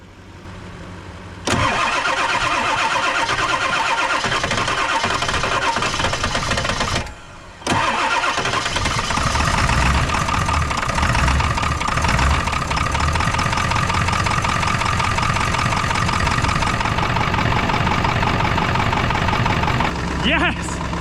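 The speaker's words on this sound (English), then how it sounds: "Let's try starting the truck again." A Ford 7.3 Super Duty truck engine cranks and catches, then settles into a loud, steady diesel idle with a brief dip in the rumble before running on continuously, close by.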